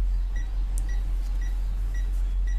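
An HTC DM 83T multimeter in non-contact voltage mode beeps near a live wire, giving short, regular pips about twice a second, fairly faint over a steady low hum.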